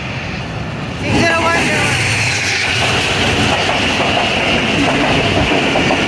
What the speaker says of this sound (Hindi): सामने से आ रही है कराची एक्सप्रेस 15 अप